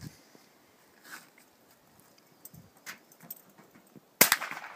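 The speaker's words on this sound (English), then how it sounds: "Whenever you shoot, Katie doesn't seem to mind." Outdoor gunshots with a few faint distant pops, then one sharp, loud crack near the end followed by a brief echo.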